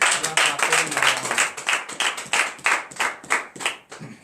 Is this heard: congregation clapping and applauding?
yes